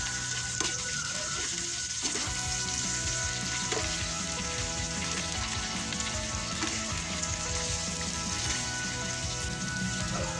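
Eggplant frying in a pan with garlic and onion, a constant close crackling sizzle, steady and fairly quiet, with occasional utensil clicks and no talking.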